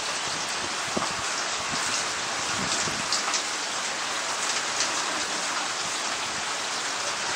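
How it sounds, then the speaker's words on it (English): Steady rain shower on an outdoor spot in Georgia in late May, a continuous soft hiss of falling drops with occasional nearer individual taps, even and unbroken throughout with no voices. "It's nice to sit out here and listen to the raindrops."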